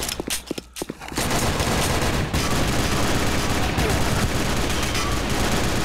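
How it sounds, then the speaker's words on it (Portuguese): Dense, rapid gunfire in the shooter game Sudden Attack roars almost without pause, loud and close, after a few scattered shots at the start. "Meu Deus, tiro tá insano."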